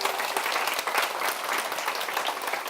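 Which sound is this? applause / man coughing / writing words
applause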